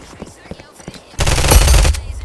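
Gunfire in Roblox Operation One: faint scattered shots and footsteps give way to a loud, sustained rapid-fire burst close up, which then tapers off.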